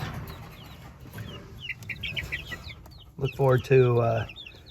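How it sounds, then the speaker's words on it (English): Buff Orpington chickens clucking softly in a brooder, with faint chirps through the first seconds and then a louder, closer burst of clucking calls near the end. "So this little Buff Orpington, they're super curious, super friendly"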